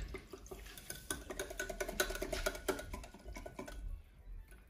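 Pepper steak with honey and cornstarch being stirred in a pot, with light clinks and soft wet scraping throughout and no talking.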